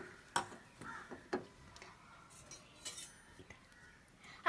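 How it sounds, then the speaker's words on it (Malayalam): A pan set down on a lit stove in a home kitchen while masala tea is prepared: a few sharp metallic clinks and knocks spread over several seconds, close and fairly quiet, ending in a louder clatter. "ഇനി നമുക്കൊരു ചട്ടി വെച്ചെടുക്കാം"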